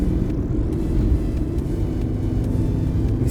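A car accelerates along a country road at around 90 km/h, a steady close engine rumble and road roar holding evenly throughout with faint ticking bursts and no talk.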